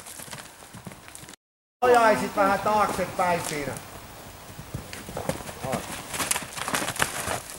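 A pony ridden over cross-country obstacles, its hooves clip-clopping steadily and fairly close throughout, while a riding instructor talks over the hoofbeats.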